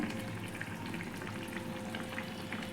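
Egg masala curry broth with potatoes bubbles at a steady simmer in a pot on a gas stove, a dense, continuous sizzle-like hiss with soft popping throughout, close and even in level.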